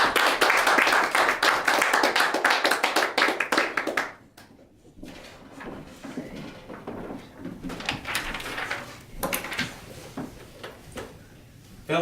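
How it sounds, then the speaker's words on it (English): Applause from a Toastmasters meeting audience welcoming a speaker, loud dense clapping for about four seconds that stops abruptly, followed by quieter room sounds and scattered soft noises. "Give a round of applause for Maurice"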